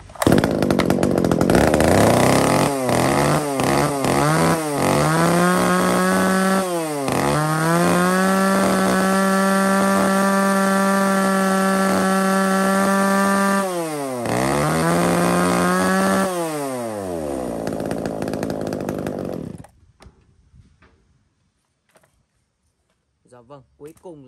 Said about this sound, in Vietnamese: 35 phân cho con máy Q8, cắt gỗ đường kính khoảng tầm 25 phân đổ về.